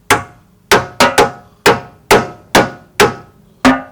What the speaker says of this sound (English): I'll have to just hammer it off.